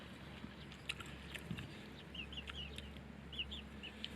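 Chickens cluck and chirp faintly in the distance over a steady low outdoor hum, with scattered short calls and no talking.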